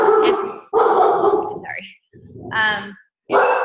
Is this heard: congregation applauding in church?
no